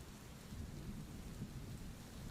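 Steady rain falls through a thunderstorm with a low, rumbling wash of thunder underneath, a continuous soft roar at moderate to faint level with no voices.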